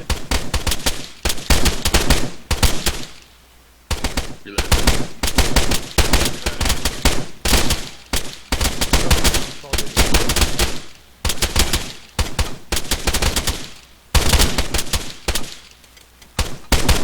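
Sustained loud gunfire at a shooting training session, long rapid bursts of sharp close shots broken by short gaps, with no voices.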